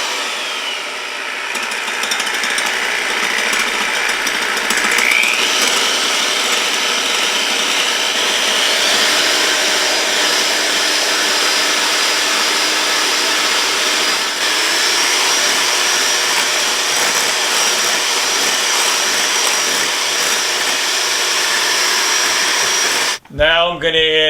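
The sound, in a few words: electric mixer beating egg whites for frosting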